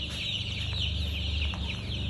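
Chickens clucking inside a small poultry house, soft repeated clucks and chatter over a steady low hum, close by, with no talk.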